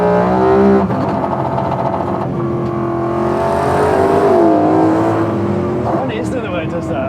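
A Mini fitted with a BMW V8 engine drones and revs from inside the cabin, its engine note rising and falling steadily while occupants talk over it.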